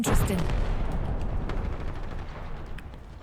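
Dense, continuous gunfire in an Apex Legends battle, with overlapping shots from several directions, loud and steady throughout, with faint voices underneath.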